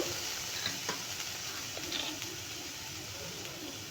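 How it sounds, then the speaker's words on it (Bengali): Grated soybean sautéed in oil in a pan sizzles steadily while a spatula stirs it with soft scraping strokes, close and even throughout, no voices. "কষিয়ে নেব আমি গ্রেট করা সয়াবিনটাকে।"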